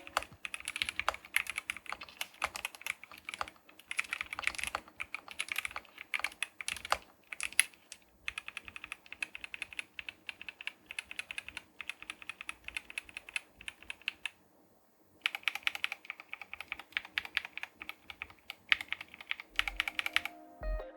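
Rapid bursts of typing on a Corsair MAKR 75 mechanical keyboard fitted with mixed MLX Plasma linear and MLX Pulse thocky switches and keycaps, dense clacking in uneven runs with brief pauses, close and clear, no talking.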